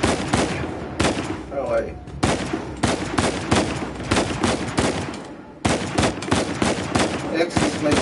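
Gunfire in the video game Uncharted 4, loud rapid bursts of automatic shots in quick succession with short pauses between volleys. Someone briefly speaks over it.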